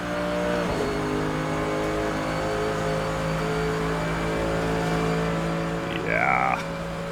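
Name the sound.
Mercedes-AMG GT3 engine accelerating uphill, Assetto Corsa video game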